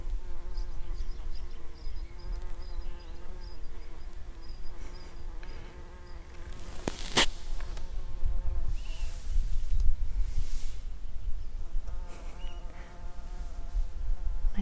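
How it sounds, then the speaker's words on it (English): Bumblebees buzz around flowering plants in a summer garden, a steady close drone with a brief louder pass midway, alone without talk. "And this one is also flowering, and the bees are already on it."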